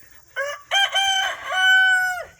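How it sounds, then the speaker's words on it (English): A rooster crows once, loud and close. The call rises, stretches into a long held note and then drops away, with no other sounds around it. "Morning, rooster."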